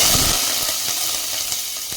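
Curry leaves hit hot oil with a loud, close burst of sizzling that settles into a steady crackling fry with a few scattered pops.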